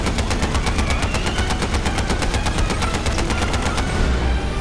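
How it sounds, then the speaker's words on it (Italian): Rapid bursts of gunfire with an explosion in the video game Far Cry 4, dense repeated shots rattling steadily for several seconds, loud and close, with no speech. "Che cos'è questa super esplosione?"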